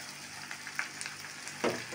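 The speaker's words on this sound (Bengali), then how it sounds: "আমি আবার মশলাগুলো কষিয়ে নিব, আদা রসুনের কাঁচা গন্ধটা যেন চলে যায়" Ginger and garlic paste sautés with spices in a pan, a close crackling sizzle broken by a few short scrapes and stirring clacks, with no speech.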